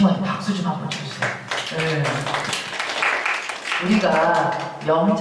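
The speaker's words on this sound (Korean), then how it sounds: "이 친구한테 박수 좀 한번 쳐주세요." Clapping rises from a room of teenage students at an author's lecture, a scattered patter of hands in the middle of the moment. Someone talks over it before and after.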